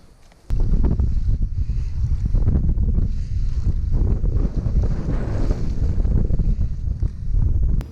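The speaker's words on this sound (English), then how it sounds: "it's howling out here wind-wise" Strong wind gusting hard across the microphone on open water while bass fishing in spring in Pennsylvania, a loud continuous roaring buffet that starts abruptly and keeps blasting unevenly throughout.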